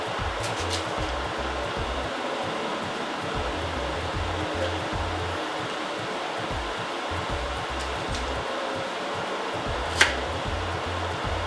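A blender grinds pepper, onion and other ingredients in a continuous, steady whirring roar, close and even throughout, with a single brief click near the end.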